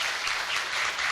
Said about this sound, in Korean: 다시 한번 큰 박수로 정 의장님